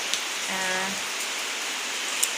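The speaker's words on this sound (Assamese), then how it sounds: "পূৰা বৰষুণ, যোৱাকালিৰ পৰা পূৰা বৰষুণ দিয়ে আছে" Steady, dense rain hisses evenly throughout, a heavy downpour drumming on a surface with a brief tonal whine rising faintly in the middle.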